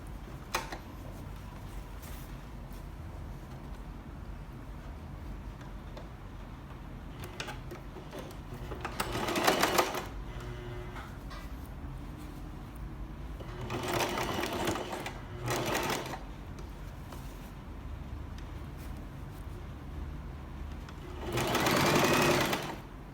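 A sewing machine stitches the side seam of a blouse sleeve at a 2 cm allowance, running in several short, fast rattling bursts separated by quiet pauses, close up.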